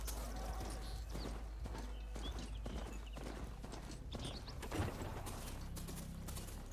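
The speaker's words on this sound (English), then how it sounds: "There you are, my faithful steed." Rhythmic hoofbeats of a mount in the video game Horizon Forbidden West, a steady clip-clop trotting close by over faint ambient game background with occasional bird chirps.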